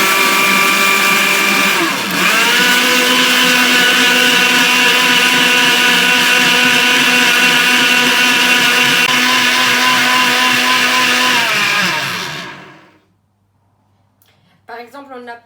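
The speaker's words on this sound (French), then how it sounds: "Je vais tout mixer." An electric blender mixes cake batter with lemon zest for a chocolate flan caramel cake. It runs as a loud, steady motor drone for about twelve seconds, briefly dips once, then winds down to silence before a short faint sound.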